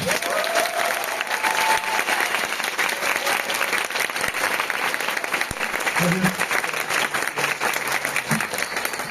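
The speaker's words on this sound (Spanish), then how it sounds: "por favor recibamos con un fuerte aplauso a Rafa Carvajal" An audience gives a sustained, loud round of applause to welcome comedian Rafa Carvajal onstage, the clapping continuous and even throughout, with faint crowd murmur mixed in.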